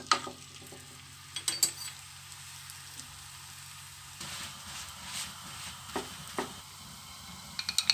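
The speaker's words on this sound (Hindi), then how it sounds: "इसे अब मैं पकाऊंगी। ये देखें पकना शुरू हो गया है।" Chicken paratha frying in oil on a hot pan, giving a faint steady sizzle with occasional soft scraping and stirring clicks, close and without speech.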